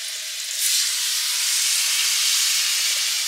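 Food sizzles and hisses steadily in a hot nonstick Caraway pan, the frying surging louder just after it starts and then holding a continuous, close sizzle with no talking.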